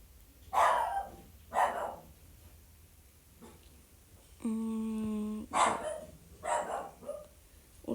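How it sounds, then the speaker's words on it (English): A dog barks in short sharp bursts, about six barks spaced unevenly across several seconds, a bit distant in the room, with a sustained tonal whine or beep in the middle. "That's my dog barking in the background."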